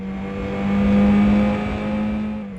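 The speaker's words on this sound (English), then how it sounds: "let's not forget that satisfying peeling out sound" A car engine roars and tyres peel out in the Amiga racing game Test Drive II, a steady loud whine that swells and eases over about three seconds.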